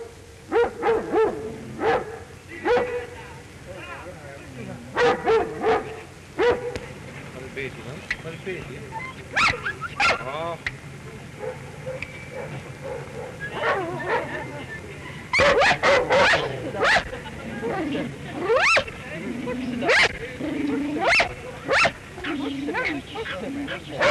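Dogs at the Kurhaus in 1931 bark on command in a string of sharp yips and woofs, close by and loud, bursting out repeatedly over a voice talking.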